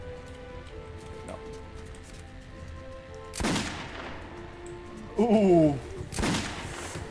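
Pistol shots in the video game Metro 2033, two sharp close cracks a few seconds apart against a quiet ambient background, with a brief exclamation from a voice between them.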